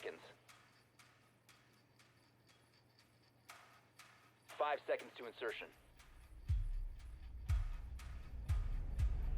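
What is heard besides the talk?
music in final 10 seconds of prep phase, Rainbow Six Siege video game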